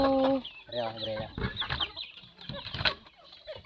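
Chickens cluck on a rural farm, rising and falling calls close by, mixed with people talking and bustle in the background.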